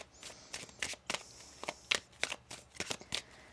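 Cards being shuffled, a series of crisp riffling bursts in quick, uneven succession, close and fairly quiet, with no voices.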